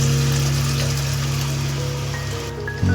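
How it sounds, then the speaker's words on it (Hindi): Water pours steadily into a spiced raw banana curry in a cooking pot, a continuous close gushing splash with a low hum beneath, cutting off abruptly near the end. "इसके अंदर पानी डाल देती हूँ मैं।"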